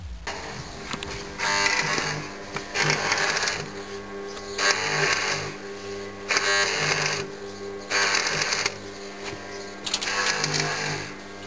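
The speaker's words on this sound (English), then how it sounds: "Welding." Welding on a homemade cart steering system, heard as repeated bursts of crackling arc roughly every second and a half, each lasting about a second, with a steady background hum between them.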